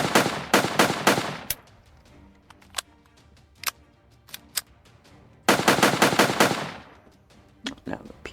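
A PPSh submachine gun fires in a video game, opening with a rapid burst, then scattered single shots and ticks, and a second dense automatic burst near the middle that tapers into a few closing shots, loud and close.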